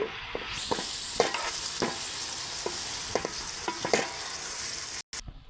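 Tomatoes with rock salt are stirred in a hot pan for a gongura tomato curry, with a steady quiet sizzle and repeated soft scrapes of the spoon, close by and without speech.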